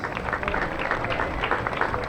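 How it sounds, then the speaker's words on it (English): Crowd applause at a parade on September 11, 2021, for a Boy Scout troop serving as color guard: a steady, dense wash of clapping from many hands, continuous throughout with some crowd noise and talk mixed in. "Big round of applause for the Boy Scouts."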